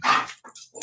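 One dog gives a short, loud bark followed by a couple of softer whimpering yips, close to the listener, with no talk.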